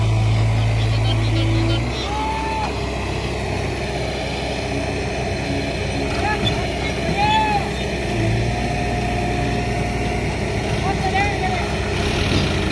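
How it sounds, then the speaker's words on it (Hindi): A Sonalika 750 DI tractor engine runs at full power while hauling a loaded trolley, giving a loud, steady diesel drone with shifting tonal whine throughout. "भैया फुल पावर में आ रहा है ट्रैक्टर।"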